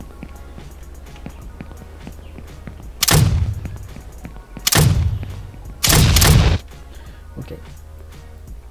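Three loud explosion bursts from drone-fired missiles in an Unreal Engine 5 game, each a sharp boom with a rumbling tail, spaced about 1.5 seconds apart over a low background hum, with a brief spoken word.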